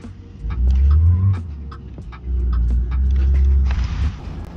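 Cabin sound of a 2005-2015 Volkswagen Touran driven in BeamNG, a steady low engine rumble that swells and eases with throttle, with scattered light clicks and ticks over it and no talking.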